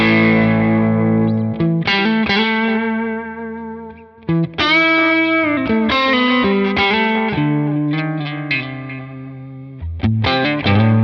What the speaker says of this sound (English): let's move to the edge of breakup, and we'll just start here on the plugin